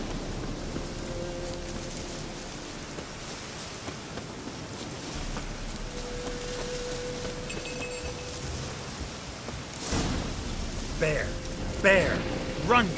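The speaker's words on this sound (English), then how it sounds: "Looks like rain." Steady rain in The Witcher 3: Wild Hunt, a continuous hiss running throughout, with faint tonal game sounds, a few louder bursts near the end, and voices talking over it.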